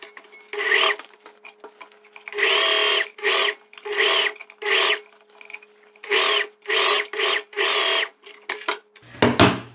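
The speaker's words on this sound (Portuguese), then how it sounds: "vou passar uma costura de pesponto rente, pegando aqui em cima do forro" A sewing machine topstitches close along a viscose dress neckline over the lining, running in repeated short loud bursts separated by brief pauses, close up.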